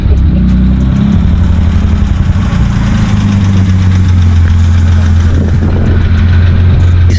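A BMW M3 E36, a worn, slightly overheating car, idles steadily after starting, its engine a loud, continuous low rumble with a faint rough pulse throughout.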